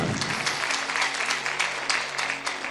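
A live audience applauds loudly, a dense, sustained clatter of many hands clapping throughout with no pause.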